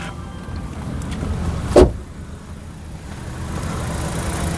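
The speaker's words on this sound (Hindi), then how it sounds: "देखिए यहाँ पर इंजन स्टार्ट हो गया है।" A Maruti car with a K15 Dual Jet engine idles with a steady low rumble, the air conditioning and its fan running. A single brief clunk sounds partway through, then the hum carries on evenly.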